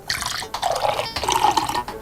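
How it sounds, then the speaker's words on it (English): Water poured into a drinking glass, a close, bubbling trickle with a rising gurgle, running in two short bursts with a brief break between. "I'm going to pour one after the other into a different glass"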